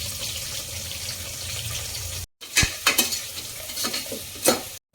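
Chopped onions and green chillies sizzle in hot oil in a pressure cooker while being stirred, a steady frying hiss broken by scraping and clatter from the spoon.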